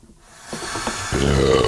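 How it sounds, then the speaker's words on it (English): One short, raspy belch rises out of near silence and comes close and moderately loud, from someone stirring malt extract into a Coopers home-brew batch. "There's those disgusting burps again."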